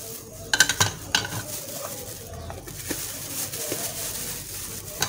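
Spoon stirring a ginger garlic paste and garam masala mixture in a bowl for chicken kofta, with scattered scraping clinks and taps, close and fairly quiet, no talking.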